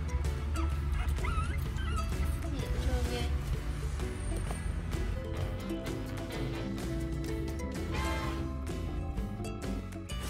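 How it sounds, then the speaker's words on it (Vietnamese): Chihuahua puppies play and whimper with small yips and whines, buried in a dense, busy, constant background wash. "Mấy con chó con bây giờ nó lớn, nó biết chạy giỡn rồi nè mọi người"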